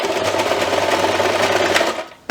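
A sewing machine runs a short diagonal stitch across a fabric pie-crust piece for holiday pie bunting, giving a loud, close, steady whirring hum that cuts off abruptly at the end.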